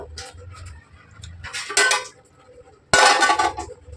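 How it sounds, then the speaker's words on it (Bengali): A lid is set onto a metal wok on a home stove, with a couple of bright metallic clanks and rattles, the loudest near the end, amid quieter kitchen clatter. "কড়াইয়ের ঢাকনাটা দিয়ে দিলাম।"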